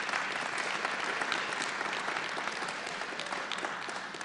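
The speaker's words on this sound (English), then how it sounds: "You can applaud loudly if you want for John." An audience at a journalism panel session applauds a newly introduced panelist, a dense, even wash of clapping sustained from start to finish.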